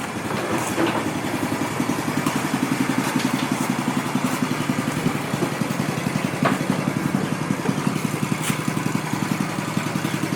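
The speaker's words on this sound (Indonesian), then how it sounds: "Ini mesin pencacah rumputnya ya?" A small engine runs a homemade grass chopping machine at a farm workshop, a steady close mechanical putter with a fast regular pulse that continues unbroken for about ten seconds.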